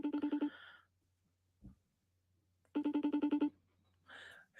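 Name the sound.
FaceTime video call ringing on a phone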